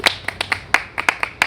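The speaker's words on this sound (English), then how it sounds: "give yourselves a round of applause" A few players in a reality competition clap for themselves, sparse, uneven hand claps close by, about a dozen sharp slaps in quick succession.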